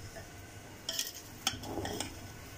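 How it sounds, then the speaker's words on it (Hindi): Cooked rice mixed in a pot with a utensil, giving a few soft scraping clinks and stirring scuffs against the metal, faint and close with quiet room tone between. "चावलों को मिक्स कर लेंगे हम।"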